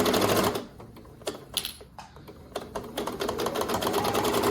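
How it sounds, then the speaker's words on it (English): Close by, a sewing machine stitches across a fabric drawstring bag in a rapid, rattling rhythm. It pauses briefly partway through, then picks up and runs steadily again. No one speaks. "Just sew it right across till it gets back into place."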